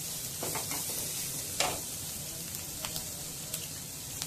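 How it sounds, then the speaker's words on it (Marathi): Ginger, garlic and coconut roasting in a pan for chicken curry, a continuous soft sizzle with a few sharp spoon taps and clicks, nobody talking. "आलं लसूण पण टाकायचं। हे सर्व भाजून घ्यायचं।"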